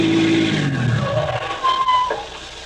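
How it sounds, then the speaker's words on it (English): A car in an old-time radio drama pulls up, its engine note dropping as it slows, then a brief tire squeal and a final settling before it goes quieter. "That's Barry in that car."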